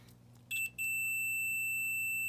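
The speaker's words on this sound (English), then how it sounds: "Let's show off the beep here real quick." A cheap $10 multimeter's continuity test gives a short beep, then after a brief gap a steady, piercing high-pitched tone that holds to the end, over faint low hum and no talking.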